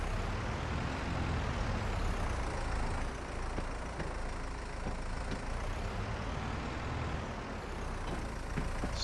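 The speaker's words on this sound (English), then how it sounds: "there's the cane trailer, so I'll pull that out a bit with the tractors" Tractor pulling a cane trailer in Farming Simulator 22, a steady, loud, close engine drone with a heavy low rumble and only slight rises and falls in pitch, with no voices.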